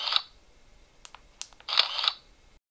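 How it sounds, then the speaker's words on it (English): A digital camera shutter clicks several times, crisp synthetic snaps spaced irregularly, with a double burst near the end, then silence. "you get a camera shutter sound when you take a snapshot"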